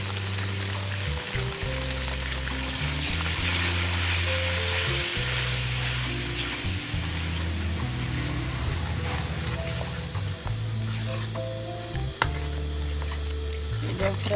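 Tomato, onion and chili paste fries in a pan with a steady close sizzle and crackle, while a low tonal hum runs underneath; no talking is heard.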